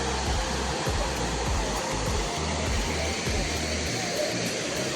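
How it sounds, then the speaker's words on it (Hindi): A waterfall in the hills around Keshkal roars as a steady, broad rush of falling water, close and continuous. "अभी हम लोग एक और वाटरफॉल पे आ चुके हैं जिसका नाम है हनी वाटरफॉल"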